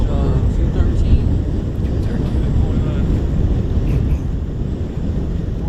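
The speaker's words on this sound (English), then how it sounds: "Definitely sounds windy." Steady wind blowing over the Fox River during a fishing outing, a loud constant broadband rush with a low rumble, with voices faintly mixed in.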